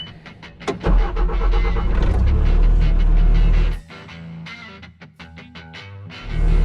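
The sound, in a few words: skid steer loader engine running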